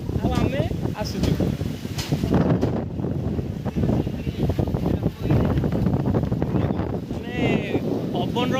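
Strong wind gusts roar steadily across a microphone during a boat outing amid sudden rain, a dense, continuous rush with a rustling texture, with voices talking underneath.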